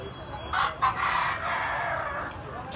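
A big white-legged stag rooster crows once, fairly close and clear, with a short call rising into a sustained crow over quiet farm background.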